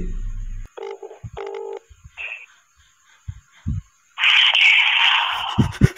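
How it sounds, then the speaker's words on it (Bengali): A telephone call placed to a number gives two short tonal rings after the dialing, fairly clear with silence between them, followed by a sudden burst of hissy noise on the line. "নাম্বারটা রিং হচ্ছে, সত্যিকারের রিং হচ্ছে গাইস, ভুতুরে নাম্বারে রিং হচ্ছে"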